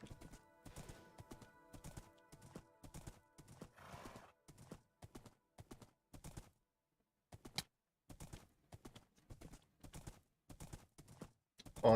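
Horse hooves clip-clop in Minecraft: GregTech New Horizons, a steady trotting rhythm, close and fairly quiet, with a brief pause midway before the hoofbeats resume.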